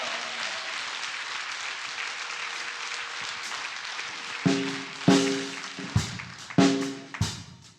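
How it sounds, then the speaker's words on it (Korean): Church congregation applause, a steady wash of clapping that gives way to sharp, separate struck accents, each with a ringing decay, across the last few seconds. "이 시간 우리가 할 수 있는 만큼 가장 큰 박수로 하나님께 영광 올려드리겠습니다"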